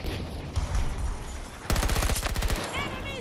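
Enemy gunfire in a Battlefield 2042 match: scattered shots at first, then a loud, close automatic burst of rapid evenly spaced rounds lasting about a second, with voices heard in the fight.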